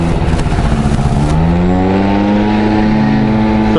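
A Honda Dio moped engine whines close up while riding, pitch sliding down then climbing as the throttle shifts, loud and continuous with wind noise and no talk.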